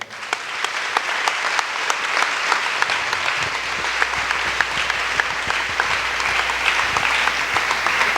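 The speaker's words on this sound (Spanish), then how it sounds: "Dele un aplauso al Señor." A church congregation applauds steadily for several seconds after a preacher's call, a dense wash of many hands clapping with no talk over it.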